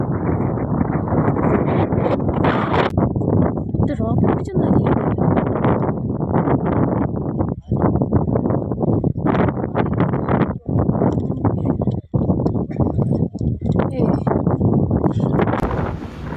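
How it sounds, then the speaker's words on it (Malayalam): Strong, steady wind roars and buffets the microphone on a misty mountain summit along the Agasthyarkoodam trek, a loud continuous rush with brief dips and no pause. "ഇവിടെ ഭയങ്കര കാറ്റും കോടമഞ്ഞുമാണ്"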